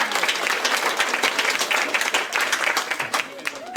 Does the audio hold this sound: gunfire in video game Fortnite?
no